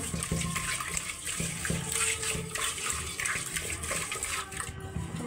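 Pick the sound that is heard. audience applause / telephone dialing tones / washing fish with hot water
washing fish with hot water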